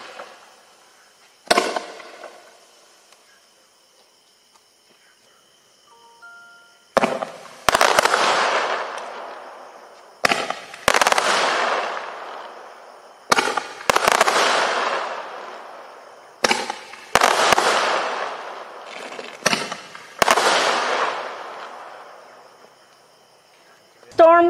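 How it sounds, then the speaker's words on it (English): Repeated bursts from a large Roman candle barrage firework, several loud whooshing blasts in quick succession with brief gaps between, each trailing a crackling decay. "This is a sorted case of two large-sized Roman candle barrage."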